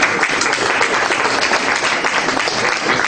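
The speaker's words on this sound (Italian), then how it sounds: "facciamo un applauso" Dense audience applause at a public civic event in Bova Marina, loud and sustained with many hands clapping at once, filling the whole moment without talk.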